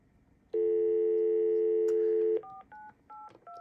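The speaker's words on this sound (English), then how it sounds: "on free PBX, on my system, I can also just dial the number directly" Tones from a hotel phone on a FreePBX system: a loud steady tone holds for about two seconds, then four short DTMF digit beeps follow in quick succession, close and clear.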